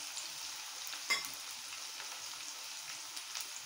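Shallots and curry leaves fry in oil, a quiet, even crackling sizzle like light rain, with one brief utensil clink near the start and no talking.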